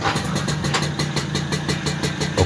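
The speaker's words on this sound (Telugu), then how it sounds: "నేను కిక్ కొడుతున్నా చూడండి" A TVS XL moped engine kick-starts and chugs with a rapid, even pulsing beat, close and fairly loud, running steadily for a couple of seconds with no voices.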